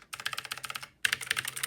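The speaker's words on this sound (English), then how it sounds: "its blue switches are significantly more tactile and louder than my reds" Rapid typing on a Stoga mechanical keyboard fitted with blue switches, a dense run of sharp, clicky keystrokes up close, briefly pausing before another quick burst.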